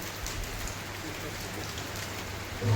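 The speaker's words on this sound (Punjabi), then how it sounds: "ਅੱਜ ਬਾਰਿਸ਼ ਬਹੁਤ ਝਾੜੀ ਪੈ ਰਹੀ ਆ" Heavy rain pours down in a dense, unbroken hiss, close and steady with no voices.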